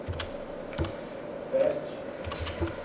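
Keys clatter on a computer keyboard in short irregular bursts of clicks, close and moderately loud, with faint speech-like sounds in the background.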